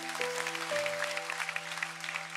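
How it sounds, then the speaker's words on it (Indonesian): A church audience responds with applause, fairly soft clapping heard through a room with sustained tonal hum, brief and continuous with no speech. "Kalau percaya kasih tepuk tangan."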